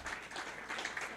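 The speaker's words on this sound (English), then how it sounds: "Round of applause for yourself." Audience at a Bitcoin and open blockchain meetup in San Diego applauding, a brief, faint, scattered patter of clapping from a room of people.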